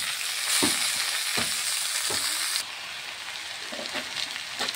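Taro stem greens frying in a wok with onion and garlic, a steady crackling sizzle broken by a few soft stirring knocks, then growing quieter partway through.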